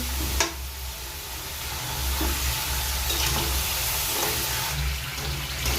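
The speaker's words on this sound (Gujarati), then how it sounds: "આ રીતના આપણે તળવાના છે." Homemade kurkure snacks frying in hot oil, a steady loud sizzle with bubbling and occasional clinks of a slotted spoon separating pieces.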